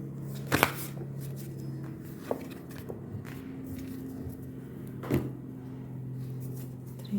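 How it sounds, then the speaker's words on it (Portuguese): Tarot cards are dealt and laid out on a table, making soft papery slaps and slides with a few sharper taps spread over several seconds, quiet and close, with no one talking. "eu vou jogar as cartas."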